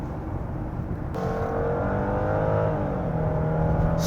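A new Genesis G90 sedan accelerates in sport mode, heard from inside the cabin. A muted road roar is joined by a smooth engine tone that rises steadily in pitch.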